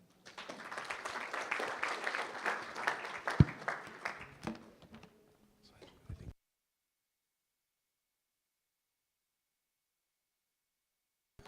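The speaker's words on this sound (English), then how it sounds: "Can we give him another round of applause, please?" An audience at the Eswatini Green Indaba applauds after a presentation, with a few seconds of moderately loud clapping that fades to scattered claps and then cuts to silence.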